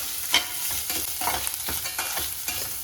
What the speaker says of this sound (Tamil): எல்லாத்தையும் சேர்த்து வறுத்து விட்டுறலாம்